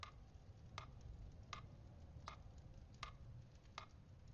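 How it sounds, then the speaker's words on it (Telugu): A clock ticks steadily and softly at a slow, even pace, each tick distinct against a quiet, faintly hissing room with no talk. "ఈ టికింగ్ శబ్దం వినపడుతుందిగా"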